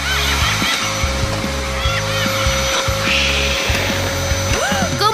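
A vacuum cleaner running loudly and continuously nearby, its motor droning with slight wavering in pitch, under some faint voices.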